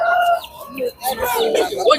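Spotted rooster at a weekly rooster market in Kunnathur, Tiruppur: a close, loud crow and clucking bursts over busy market chatter, with people talking nearby.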